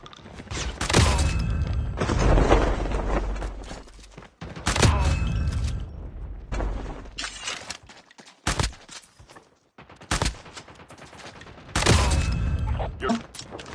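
Loud bursts of gunfire in a shooter game on the Alcatraz map, with shotgun blasts, come in repeated heavy volleys separated by short quiet gaps, alongside mechanical clatter and thuds.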